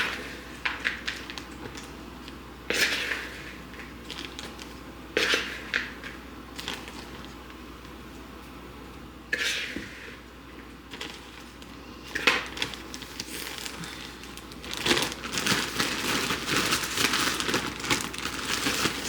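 Puppy chow being mixed with powdered sugar in a bowl: irregular bursts of rustling, crinkling scrapes and soft clatter, close and fairly loud, growing busier and more continuous toward the end.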